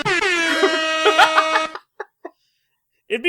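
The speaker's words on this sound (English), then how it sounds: "we put air horns over it" A loud, blaring air horn sounds for over a second, followed by a few short blasts and a final brief honk after a pause.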